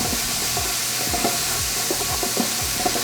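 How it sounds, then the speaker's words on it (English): Diced celery and carrot sizzle steadily in a hot pan as a marinara base cooks, with a constant frying hiss and repeated scraping strokes of a stirring utensil, close and loud, no voices. "We're going to cook the vegetables so they're slightly tender."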